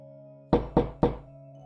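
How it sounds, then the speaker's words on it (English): Three sharp knocks on a bedroom window at night, evenly spaced and fairly close, standing out over a low steady hum, with no voices. "he heard some knocking at his window"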